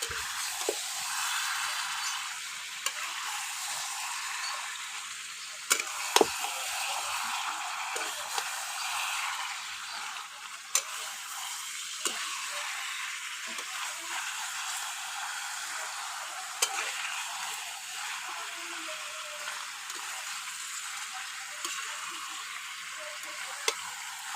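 Chicken kosha frying in a pan over a wood-fired stove gives a steady, close sizzle with faint stirring scrapes and occasional sharp ticks and pops, continuous throughout with no talking.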